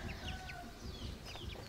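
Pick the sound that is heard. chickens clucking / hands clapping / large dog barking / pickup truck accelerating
chickens clucking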